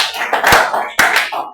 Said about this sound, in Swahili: Ya Bwana Yesu makofi.